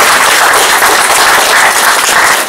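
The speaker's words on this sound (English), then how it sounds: "And a round of applause for him on my behalf." Participants at a Scrum Bangalore meetup break into loud, close applause, a thick continuous clatter of many hands that holds at full strength for two and a half seconds.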